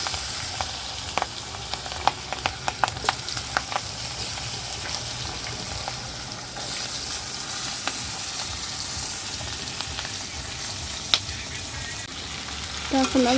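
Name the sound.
potatoes frying in a pan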